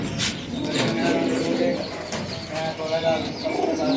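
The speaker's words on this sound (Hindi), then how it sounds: "देखें ये पट्टी वाला कबूतर है" A banded (patti wala) cross pigeon at a Karachi bird market gives low, rolling coos close by, mixed with market chatter and people talking nearby.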